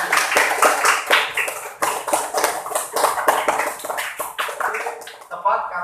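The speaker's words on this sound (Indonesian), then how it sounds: "Oke, tepuk tangan dulu untuk Kopidah dan Farid." Classroom applause for two students, a group of pupils clapping in quick irregular bursts for several seconds, close and fairly loud, fading briefly near the end.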